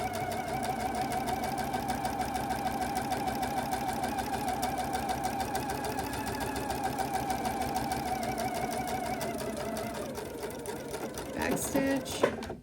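A sewing machine stitches fabric from one corner to the other, running in a steady, close, rapid whir. Near the end it stops with a few clicks and handling sounds.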